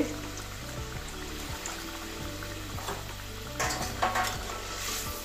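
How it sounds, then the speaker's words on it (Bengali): Water goes into a simmering katla fish curry with tamarind and tomato in a pan, giving a continuous close sizzle and bubbling, with a brief louder splash and burst near the end. "আর একটু জল দিয়ে দিচ্ছি"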